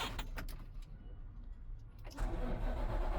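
A truck engine rumbles steadily at idle while building air pressure, then the low roar rises and thickens as the revs pick up, close and loud.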